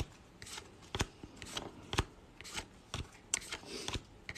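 Pokémon trading cards from a Celestial Evolution display being shuffled and sorted, with sharp repeated card snaps and flicks about every half second, close and fairly loud, with no talking.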